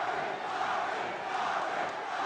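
Crowd at a 2011 Armed Forces boxing match in the 132 lb weight class roars in a steady, dense wash of cheering that holds for the whole stretch, with no clear speech.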